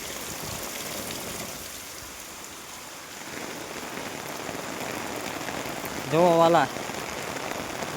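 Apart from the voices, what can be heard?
rain falling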